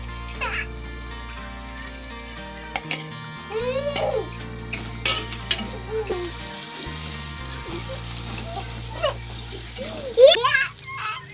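Chopped tomatoes go into a pan of frying onions, bringing a low sizzle with stirring and clinking of utensils against the pan, under steady background tones and a talking voice.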